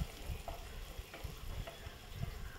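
Whole cinnamon, cloves and cardamom with a large sliced onion sautéing in oil for Malabar-style ghee rice, a quiet continuous sizzle broken by soft stirring knocks and scrapes.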